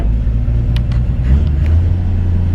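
A 1954 Chevrolet 5-window pickup drives along with a loud, continuous low engine rumble heard from inside the cab, steady throughout with a slight swell partway through.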